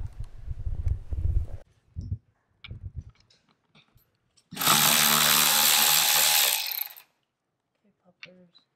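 Bolts are removed from a BMW M4 wheel: short mechanical clicks and rattles, then one loud sustained whirring burst of a power tool for about two seconds, followed by quiet.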